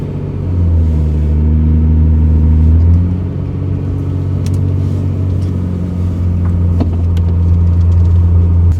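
A Toyota Cressida MX83 engine runs steadily while driving, a loud, close, continuous low rumble with a shift in pitch partway through, as if changing gear, and no talking.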